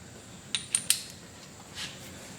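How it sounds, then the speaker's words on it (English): Rear axle nut being tightened on a Haro FST BMX bike: three quick metallic ratchet clicks close together, followed by a softer scrape, close up in a quiet room. "And then we could tighten the nut on the back."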